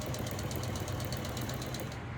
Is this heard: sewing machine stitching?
yes